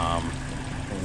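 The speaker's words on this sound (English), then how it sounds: "So the car is running" A car engine idles steadily with a low, continuous hum, close by, while a person talks over it briefly.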